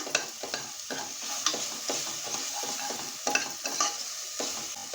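Ginger, garlic and green chilli paste sautéing in a pan, a close steady sizzle broken by repeated scraping stirs at a quick, fairly even rhythm.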